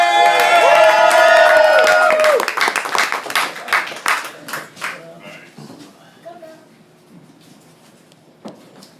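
Loud applause and cheering from a poetry slam audience in Orlando, Florida, opening over a sung or held voice, then thinning into scattered claps and fading to near silence.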